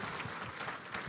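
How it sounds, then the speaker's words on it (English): Crowd applause at a public question-and-answer meeting in Murang'a, a dense continuous burst of clapping heard briefly and fairly faint. "Clap for her."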